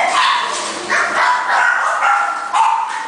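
Puppies caged at a puppy mill in Waimanalo yip and bark in a quick, repeated series of high, close, fairly loud calls with slight whimpering between, and no voices.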